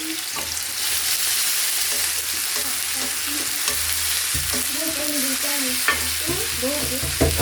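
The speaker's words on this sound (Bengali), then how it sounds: "টমেটো কুচিগুলাকে একটু ভাজবো টমেটো কুচিগুলোকে একটু দুইটা নাড়া দিয়ে কাঁচামরিচ কুচি দিয়ে দিলাম" Chopped tomato and green chili stirred and fried in a pan, with a continuous close sizzle, scraping spatula strokes and occasional clinks, no talking.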